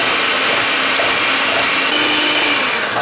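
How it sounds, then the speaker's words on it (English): An electric whisk whirs steadily as it beats egg whites in a bowl, making a continuous, loud, even buzz with no breaks and no talking. "that has been about 4 minutes of electric whisking"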